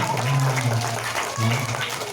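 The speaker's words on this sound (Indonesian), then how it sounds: "Tepuk tangan untuk yang kamu belajar." Audience at a primary school Maulid Nabi event clapping, a dense, loud patter of many hands throughout, with a low hum or murmur underneath.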